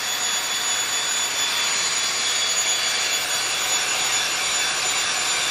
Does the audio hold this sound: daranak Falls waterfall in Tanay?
no